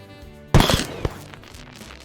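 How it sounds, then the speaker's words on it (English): A video game explosion sound effect bursts out suddenly and loudly after a quiet musical bed. The sharp blast is followed by a short crackle and a decaying rumble. "that explosion sound I also got from Zapsplat"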